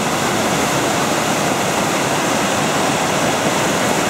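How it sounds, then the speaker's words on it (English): A steady, loud roar of falling water fills the whole clip, a dense continuous rush with no pauses or voices. "the roar of that water sounds like a jet plane overhead."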